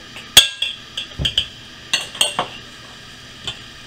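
A spoon folds ingredients into grits spoon bread batter, cast iron cooking in progress: a series of sharp clinks and scrapes against the dish, spaced irregularly and close up, with no talking.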